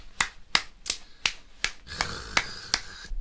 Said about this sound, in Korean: 우선 박수